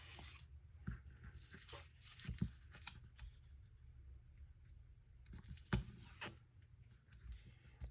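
Quarter-inch score tape is pressed and peeled on a paper scrapbook layout, giving faint, close rubbing, tearing and crinkling sounds in irregular bursts.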